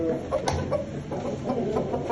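Soft clucking of chicks or small fowl, several brief chirpy calls scattered over a steady low background murmur, close by.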